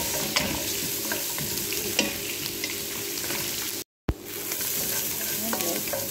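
Onion, ginger and garlic sizzle steadily in a frying pan, a constant close crackling hiss with small stirring clicks and a brief cut in the middle.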